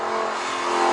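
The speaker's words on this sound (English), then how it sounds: "You press that and the gears are slammed home brutally fast." A 2008 Lamborghini LP560-4 engine revs loudly and continuously at close range with a fast Corsa gearshift, a dense, steady roar filling the whole second.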